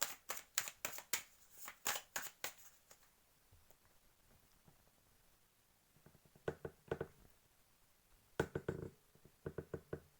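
Tarot cards shuffled by hand, a fast riffling burst of crisp slaps at the start, then quiet, then two more short clusters of card flicks and taps, close and fairly soft.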